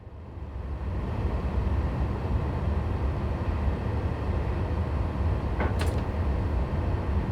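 Class 370 APT train in Train Simulator Classic on the West Coast Main Line pulling away, a steady low rumbling drone throughout with a brief higher whine near the end, no talking.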